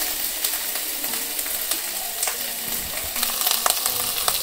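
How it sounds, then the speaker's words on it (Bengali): Chillies dropped into hot oil sizzle and spit with sharp crackling pops over a constant hiss, stirred now and then, loud and close with no talk. "মরিচ তেলের মধ্যে ছাইড়া দেওয়ার সাথে সাথে একদম ছিটে আসছে"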